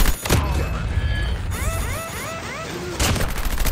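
Gunfire in the video game Call of Duty, with loud broadband bursts at the start and end and busy electronic game effects and chirping tones in between.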